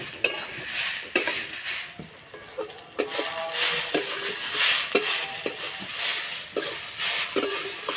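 Grated potatoes fry gently over low heat in a pan for a potato payesh, with a continuous soft sizzle and sharp spatula scrapes and stirring knocks at irregular intervals.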